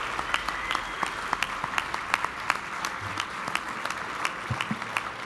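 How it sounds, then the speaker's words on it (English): An audience at an inventors hall of fame ceremony claps for the inductees, sustained crowd applause with sharp individual claps standing out near the listener. "Please join me in one more round of applause for all of our distinguished inductees tonight"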